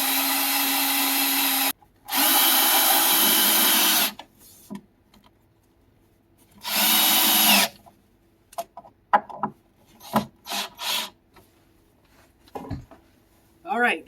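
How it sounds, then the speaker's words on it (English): Two long bursts of power drill whirring through a rotten wooden floor beam, each a couple of seconds, followed by quieter handling clicks and scrapes. "Drill ourselves a hole,"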